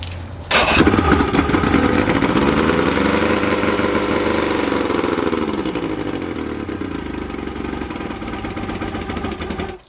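A boat engine running out of fuel in its hose cranks and catches almost at once, then runs loud and rough for several seconds before cutting out abruptly at the end, close by.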